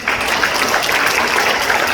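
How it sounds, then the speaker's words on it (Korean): Audience applause at a campaign office opening in Gumi, honoring elderly guests, rises as dense, steady clapping from a sizable crowd indoors and holds evenly throughout with no voices. "어른들 만수무강 건강하라고 박수 한번 해주겠습니다"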